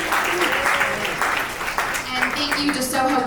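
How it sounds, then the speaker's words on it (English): An event audience in a warehouse drawing room claps for sponsors, a moderate burst of applause with voices and chatter mixed in throughout. "Let's give a round of applause to all of our generous sponsors."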